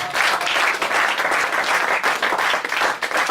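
A church congregation claps and applauds for the Lord at a French-language service, a dense, steady round of many hands close by, sustained without a break for the whole stretch.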